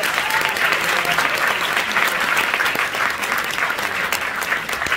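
Packed hall clapping steadily for Stéphane during a film festival closing ceremony, an even, loud wash of applause with no break.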